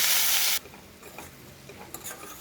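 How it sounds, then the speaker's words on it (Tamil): Chopped ivy gourd (kovakkai) sautéing in a pan, first a loud dense sizzle for about half a second, then a soft frying hiss with light stirring scrapes and clinks. "கோவக்காய் வந்து நல்லா வதக்கிக்கணும்."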